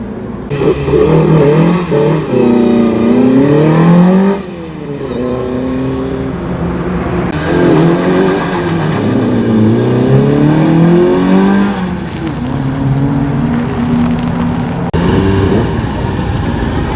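Classic rally cars lining up at Oulton Park for a stage, engines revving loudly and close by in rising and falling bursts, with gear changes and repeated throttle blips across the whole stretch.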